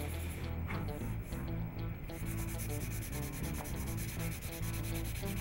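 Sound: sanding the wrist of a wooden shotgun stock

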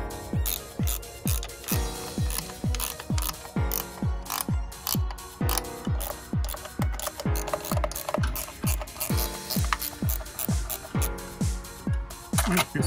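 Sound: ratchet tightening Mazda CX-5 head cover bolts

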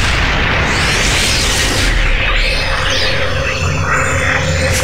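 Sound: explosion-like spell effect in video game Baldur's Gate 2

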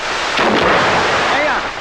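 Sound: firecracker explosion

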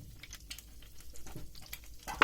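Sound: stirring yogurt with olive oil

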